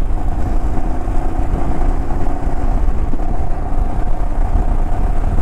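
Vehicle engine droning steadily on a high mountain road in Ladakh toward Khardung La pass at about 15,300 feet, a loud continuous rumble with wind noise and no talk.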